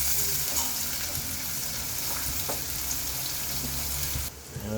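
Sliced onions frying in hot oil for a prawn dish, a dense, close sizzle with a few clicks of stirring, dropping off sharply near the end.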